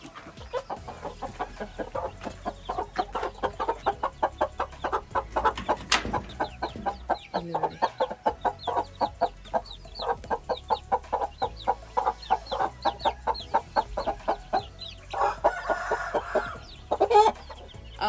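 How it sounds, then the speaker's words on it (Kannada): Desi country hens and a pair of fighter chickens in a village coop cluck in a dense, continuous series of short calls, close and fairly loud, with a few sharper squawks toward the end. "ಹಾಗೆ ಇಲ್ಲಿ 2 ಫೈಟರ್ ಕೋಳಿ ಕೂಡ ಉಂಟು."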